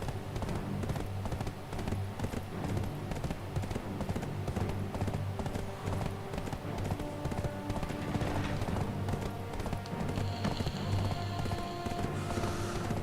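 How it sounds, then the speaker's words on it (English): Horse hooves clip-clop steadily and continuously in the video game Black Desert Online, a close, even trotting rhythm running under in-game music and ambience, with no talk. "only to send me back again by horse"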